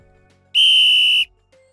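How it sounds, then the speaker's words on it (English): A loud, steady whistle blast lasting about two-thirds of a second, blown to halt children at a school, with a brief faint tone following after it. "The whistle. A tool so powerful, it stops all kids in their tracks."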